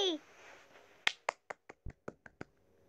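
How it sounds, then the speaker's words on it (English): A short burst of sharp hand claps, about eight in quick, slightly uneven succession, close and distinct after a brief voice at the start. "Stop clapping."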